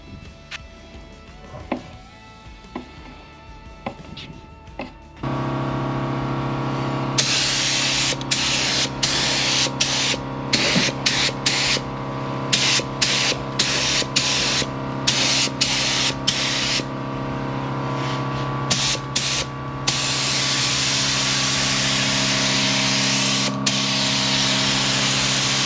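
Spray gun applying a first coat of normal-build primer inside a custom Foxbody engine bay, a loud continuous hiss broken by repeated short pauses as the trigger is released and squeezed again.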